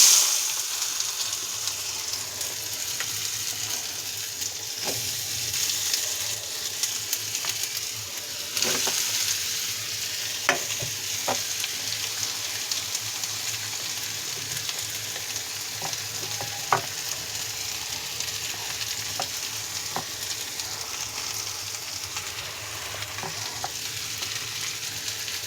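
Taro stolon mixture frying in a wok for Noakhali-style pātūri, a steady close sizzle with occasional sharp crackles and pops, no voices over it.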